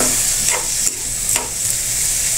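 Jackfruit and mung beans sautéed with pork in a pan, a close steady sizzle with a few quick stirring scrapes, no voices.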